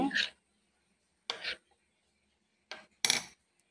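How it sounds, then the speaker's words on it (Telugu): Pineapple pieces are mixed into banana pancake batter in a bowl, heard as four short, separate clinks and scrapes of a utensil against the bowl with quiet gaps between them. "దీన్ని మిక్స్ చేసుకుందామండి."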